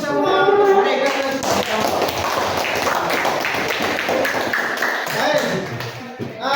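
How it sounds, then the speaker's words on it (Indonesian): Classroom audience applauding, a dense wash of hand clapping from a group of students sustained for several seconds, with a teacher's voice talking over the clapping. "Kita beri aplaus untuk semua mereka yang"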